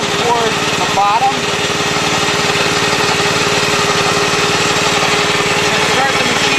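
Engine of a Sand Man sand cleaning machine running steadily at close range, a continuous loud mechanical drone with a faint voice briefly audible under it near the start.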